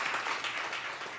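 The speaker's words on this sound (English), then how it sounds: "Clap again." Audience at a literary reading applauding: a brief, dense burst of many people clapping at once, fairly close and steady throughout.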